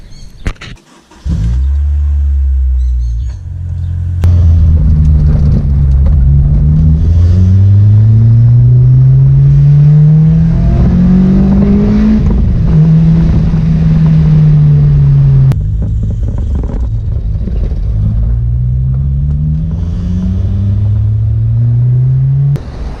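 A car with modified wheels starts up and drives off, its engine rumbling close and loud, rising and falling through several gear changes over a steady road drone.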